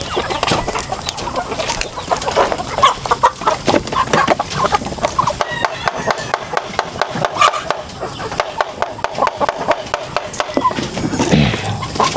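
Chickens cluck and chatter close by, busy and continuous, with scratching and rubbing noises mixed throughout.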